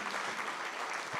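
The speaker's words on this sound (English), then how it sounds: "congratulations and a big round of applause" An audience applauds at an awards-style care event, giving a dense, steady burst of clapping from many hands that fills the whole short stretch without a break.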